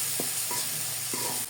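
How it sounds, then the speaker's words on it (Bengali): Ground spices with salt, turmeric, chili powder and a little water stir-fried in a pan for egg cutlets: a steady, soft sizzle with a few scraping stirs of a spatula, faint and close. "মশলা খুব ভালো করে কষিয়ে নিয়েছি।"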